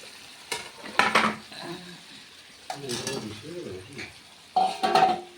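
Potatoes stirred into braised goat meat in a pan, with scraping bursts and a soft sizzle coming in short irregular strokes, and a voice talking briefly between them.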